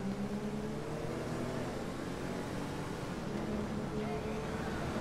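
A car driving in GTA V, a steady engine drone with road rumble holding level throughout, mixed under faint background sound.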